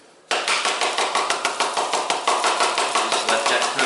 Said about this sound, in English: we'll get some sand, just kind of sprinkle in